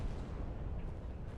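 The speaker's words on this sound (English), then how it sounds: "Powerful explosions swept through the area." Powerful vapor cloud explosions tearing through an oil refinery's isomerization unit after a truck backfire ignites the cloud, heard as a continuous, loud, deep roaring rumble with no distinct separate blasts.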